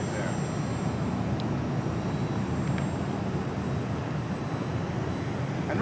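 An E-Flite Sukhoi Gen 2 RC model airplane hums as a faint, steady whine in the distance beneath open outdoor noise and low rumble, with someone talking over it.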